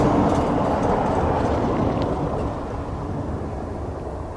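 Aer Lingus airliner arriving from Seattle and landing at Dublin Airport on a windy day, a steady broadband engine roar that stays loud and slowly eases off, with wind noise and no talking.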